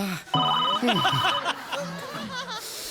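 A telephone rings with a bright electronic tone, its repeated bursts overlapping with talking and a bit of laughter.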